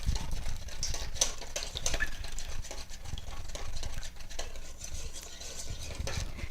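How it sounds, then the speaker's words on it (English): Chocolate pie filling is mixed in a bowl, giving a steady close scraping and tapping of a utensil against the dish that continues for several seconds without talk. "you're going to mix this together"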